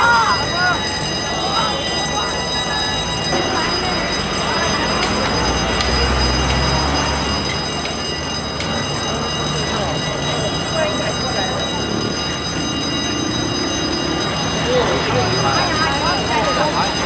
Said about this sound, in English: Another train is coming.